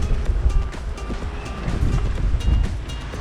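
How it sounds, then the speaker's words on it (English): Ocean waves and wind roll past a sailboat at night on the Caribbean Sea, a continuous washing, rushing roar with low surges and hiss, fairly close and unbroken. "the waves build in combination with the currents and the winds"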